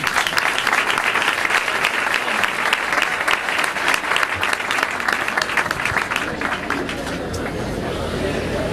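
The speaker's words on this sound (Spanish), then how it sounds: "Señoras y señores, un fuerte aplauso para Joaquín Sáenz." Applause fills a discotheque opening ceremony, dense steady clapping from an indoor audience with crowd chatter mixed in, holding loud and continuous throughout before easing slightly toward the end.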